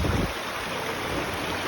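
River water rushes steadily over slippery marble rocks at a stream crossing in Samaria Gorge, a continuous broadband wash, near and fairly loud, with no voices.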